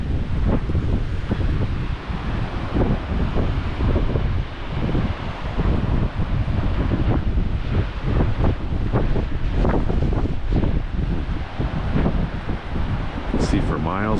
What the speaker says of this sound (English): You can hear the waves crashing just like the ocean.